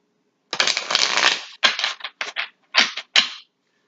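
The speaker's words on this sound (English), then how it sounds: "I shuffle usually until I feel the cards no longer want to be pushed anymore" Tarot cards being shuffled by hand at close range, a long riffling burst followed by several shorter crisp bursts with brief pauses between, loud and alone with no talking.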